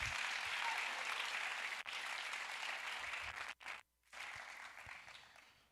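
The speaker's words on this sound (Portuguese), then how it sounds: "Dê um aplauso se você é crente." Congregation applause at a youth congress church service, steady broadband clapping that breaks off briefly twice near the end before resuming, fairly faint and distant.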